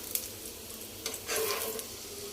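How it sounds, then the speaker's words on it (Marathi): Poha and grated cabbage cutlets sizzle in hot oil in a pan, a steady close crackling fry with a brief louder burst as they shift, and no talking. "तर आपण ते व्यवस्थित फ्राय करून घेऊया।"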